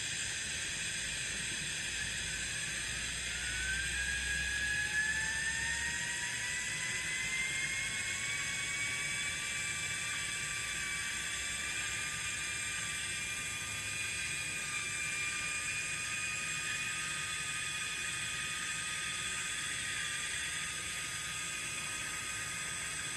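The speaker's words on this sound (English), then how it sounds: "Here's another Thingiverse favorite of mine, a jet engine." A small 3D-printed model jet engine runs with a steady high-pitched whir and hiss. The pitch climbs slowly as it spins up, then holds for a long stretch with no talking.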